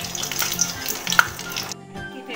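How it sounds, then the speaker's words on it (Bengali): Nigella seeds crackle in hot oil while being stirred for an okra dish, a short burst of close sizzling with a few spoon knocks that stops abruptly. "কালো জিরে একটু ভালো করে তেলে নাড়াচাড়া করে নেব।"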